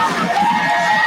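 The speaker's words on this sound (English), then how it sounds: "listen to this crowd welcome the dogs to the field" A high school football crowd cheers as the Tattnall County Bulldogs run onto the field, a steady roar of voices and whoops that is loud and continuous across the brief moment.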